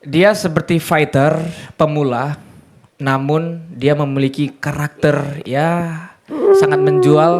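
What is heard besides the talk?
No everyday noise stands out behind the speech.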